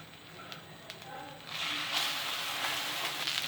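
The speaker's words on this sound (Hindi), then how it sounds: "बड़ी एहतियात के साथ दूसरे साइड को पकाएंगे।" An egg frying in a pan over low heat as its second side cooks, a steady sizzle that swells louder partway through and holds, close and continuous with no talk.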